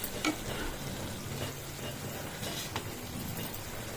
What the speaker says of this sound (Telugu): ఇప్పుడు చామగడ్డలు వేసుకోవాలి.